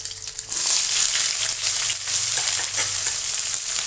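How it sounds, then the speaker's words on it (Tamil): Onions, green chilies and curry leaves frying in a pan for hotel-style potato poori masala: a soft sizzle swells abruptly into a loud, steady crackle that continues close by, with no voices. "வெங்காயம் நல்லா வதங்கட்டும்."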